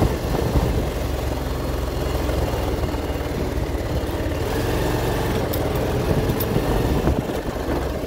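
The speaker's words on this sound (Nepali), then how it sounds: "रोडको बिचबाट बाइक चलाउनुको मजै भयो।" A motorcycle rides along a rough jungle road between Charange and Butwal, its engine giving a steady, close, continuous rumble with wind and road noise for the whole stretch.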